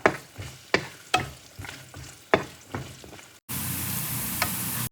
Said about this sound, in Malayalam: ഇഞ്ചിയും വെളുത്തുള്ളിയും ചേർത്ത് കൊടുക്കാം. ഇത് ചെറുതായിട്ട് നമുക്കൊന്ന് വഴറ്റിയെടുക്കാം.